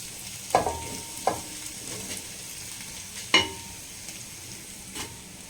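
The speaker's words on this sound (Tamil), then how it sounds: "இப்போ இந்த தேங்காய் துருவலை சேர்த்துக்கலாம்" Grated coconut stirred in a pan while making coconut laddu, a few soft scraping clinks of the spoon against the pan at uneven intervals, quiet and close, with no talking.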